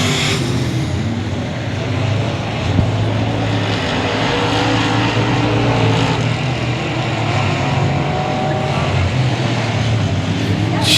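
Race cars roar around the track on the final lap at Cotton Bowl Speedway, a continuous loud engine drone from a pack of cars, steady for the whole stretch, with an announcer's voice faintly under it.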